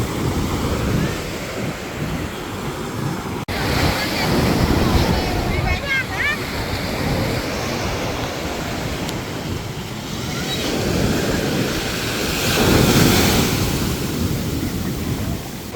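Ocean waves break and wash onto a beach in steady, rolling surges, swelling louder around the middle and near the end, with wind buffeting the microphone throughout.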